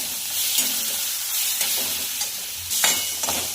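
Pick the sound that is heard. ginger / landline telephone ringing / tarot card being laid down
ginger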